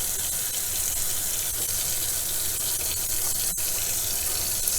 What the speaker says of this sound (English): This is more of a shower than a bath